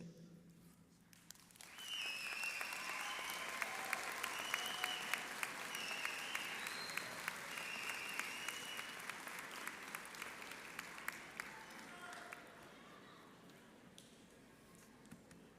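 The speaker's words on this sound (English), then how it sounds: "honor them with a round of applause" Graduates at a pharmacy school commencement rise and applaud their families, with sustained, even clapping from a large hall crowd that swells in, holds for about ten seconds, then tapers off.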